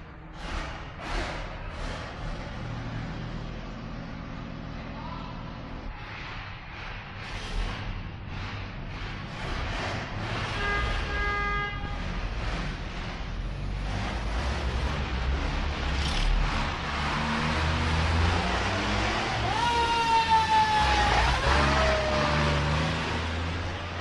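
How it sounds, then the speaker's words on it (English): Fire engines starting up and roaring out of the station on a stereo demonstration record, engines idling and then revving and building to a loud, steady roar, with rising siren-like whines near the end. "those fire engines are going to start up and go roaring out of the station"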